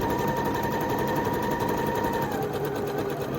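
A sewing machine stitching on a label, running continuously with a fast, even mechanical whir and needle rattle, close and loud, with no talking.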